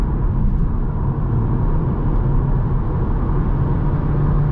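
Steady, loud road rumble and tire roar inside a 2020 Seat Leon FR cruising at highway speed at night, a constant low drone with no breaks.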